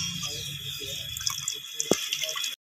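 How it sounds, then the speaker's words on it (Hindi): Water splashes and gurgles as about two glasses are poured into a pot of mutton paya soup, a busy close liquid rush with faint voice underneath, ending abruptly. "अब मैं इसमें तकरीबन 2 गिलास पानी के डाल देती हूँ, ताकि हमारा अच्छा सा शोरबा भी रेडी हो जाए।"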